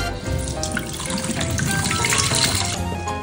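Fish is rinsed in a bowl of water in a kitchen while preparing encebollado, with running water splashing and rushing steadily and loudly throughout.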